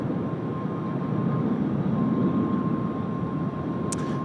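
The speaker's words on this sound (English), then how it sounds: "Bit of parallel departure. Air China into the early left-hand turn there." An Air China airliner departs Tokyo Haneda in a parallel departure with an early left turn, giving off a steady, loud jet-engine roar that stays constant throughout.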